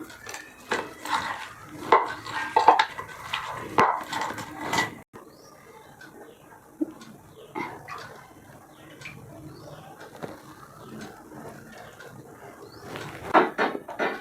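Snack dough for homemade mixture is mixed with cold water in a bowl, heard as irregular clinks, taps and wet stirring, louder at first and again near the end, with a voice faintly present at times.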